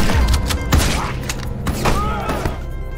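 Gunfire in an action film scene: sharp bursts and thumping shots mixed with a dense soundtrack and rumbling background, continuous and loud across a few seconds.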